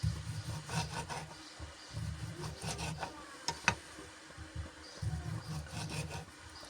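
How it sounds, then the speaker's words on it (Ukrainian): A knife slices meat into thin strips on a board for a salad, giving close, soft rhythmic cutting strokes in short bursts with brief pauses, faint and with no voices. "І ріжемо теж його такими соломочкою."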